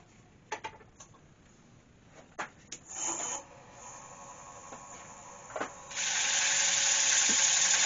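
A silver birch hollow form spins on a wood lathe while being sanded, giving soft intermittent rubbing and scratchy taps that swell into a steady, faint hissing rasp near the end.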